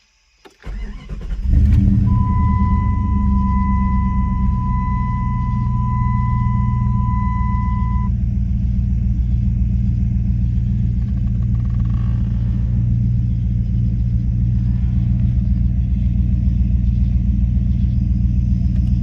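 A 1997 Jeep Grand Cherokee engine cranks briefly and catches, then settles into a loud, steady close-up idle rumble, with a thin electronic tone sounding for a few seconds after the start.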